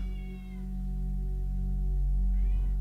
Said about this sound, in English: I don't know if you guys can hear the cat.